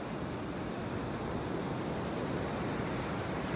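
Ocean surf washing onto a beach in North Naples, Florida, a continuous dense hiss of breaking waves with no pauses, steady and fairly soft, mixed with light wind.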